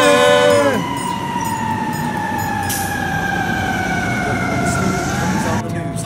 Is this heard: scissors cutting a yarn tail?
no